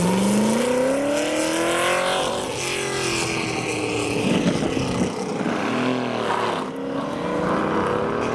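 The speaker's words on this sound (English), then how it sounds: "the Ferrari Roma next up, giving a few revs for the cameras" A Ferrari Roma supercar leaving a car show revs its engine loudly and close by. The rising and falling engine note runs continuously through the whole stretch.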